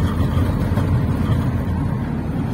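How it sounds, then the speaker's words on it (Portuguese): A Citroën Jumper 2.8 diesel van engine idles, a steady low rumbling drone heard close and fairly loud, unbroken throughout with no talk. "o motor do carro, ó, tá de boa o motor ainda"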